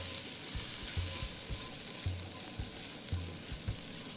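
Garlic frying in a hot pot with a steady, close sizzle, while a spoon strikes the pot in repeated scraping strokes roughly every half second. No one speaks.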